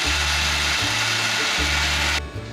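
A kitchen mixer grinder blends green chilli, tomato, chopped onion, ginger and garlic into a paste, running as a loud steady whine with a pulsing low motor hum before cutting off abruptly near the end.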